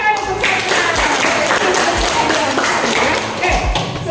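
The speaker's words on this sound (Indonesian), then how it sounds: "tepuk tangan untuk saya" A classroom group applauds during a teaching-exam lesson, a steady, dense wash of clapping with a few sharper low thumps, lasting about four seconds at a loud, even level.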